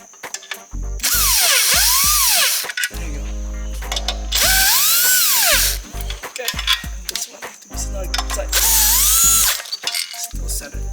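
A power tool spins in three loud bursts, each rising and falling in pitch, with quieter ratcheting and clicking between them while bolts are tightened on a 2008 Honda Civic Si clutch.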